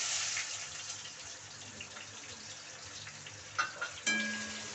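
Two finely chopped onions sizzle quietly in a hot pan where fish was fried, a soft steady frying hiss with a few stirring clicks and scrapes near the end.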